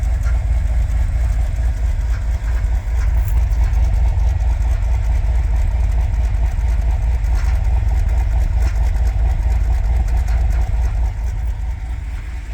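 A 6.4 Hemi V8 in a Ram 2500 pickup with a performance camshaft and stock exhaust idles close by with a steady, deep rumble and a slightly uneven loping pulse, running continuously without any talking.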